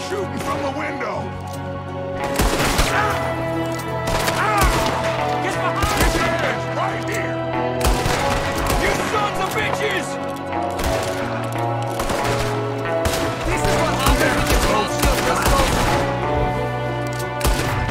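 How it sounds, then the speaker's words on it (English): A chaotic Western gunfight in Red Dead Redemption 2, with repeated gunshots and shouting voices layered over music and effects, the shots loud and close amid a dense, busy mix that has no clear pauses. "There's another one shooting from the window."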